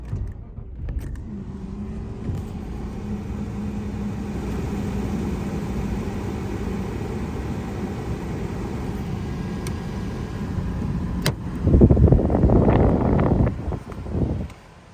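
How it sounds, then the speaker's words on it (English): A car engine idles after a cold start, a steady low rumble with faint wind noise, then a brief louder surge near the end before it settles. "This is the cold startup video"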